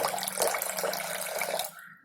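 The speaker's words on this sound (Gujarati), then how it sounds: "હવે આપણે એમાં પાણી એડ કરીશું" Water runs steadily or is poured into mango juice for nearly two seconds, a close, splashing gush that cuts off abruptly.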